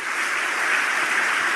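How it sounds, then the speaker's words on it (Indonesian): A church congregation claps during a sermon, a dense, even wash of applause that holds steady and fairly loud for a short stretch with no voices over it. "Tepuk tangan buat Tuhan Yesus."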